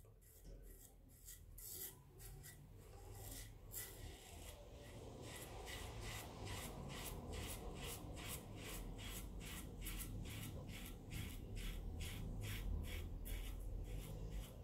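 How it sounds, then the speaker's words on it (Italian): Razor blade shaving off a fairly full beard, close scraping strokes repeating in a quick steady rhythm over a low background, with no talk. "si sente proprio la lama che scorre bene"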